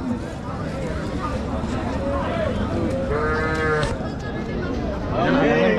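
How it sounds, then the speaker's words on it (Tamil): Cart bullocks at a busy cattle market in Kundarapalli moo loudly and repeatedly over steady crowd noise, with people talking nearby throughout. "வண்டி மாடா அது, வண்டி மாடா."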